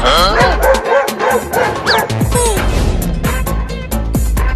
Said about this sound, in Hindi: अबे कुत्ता चल भाग जा यहाँ से।